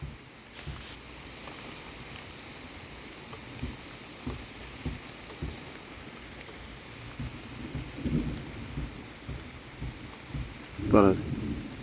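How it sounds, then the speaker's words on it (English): Rain and rolling thunder in a summer afternoon storm: steady rainfall hisses throughout while low thunder rumbles build and swell, with a louder crack near the end. "It's raining now."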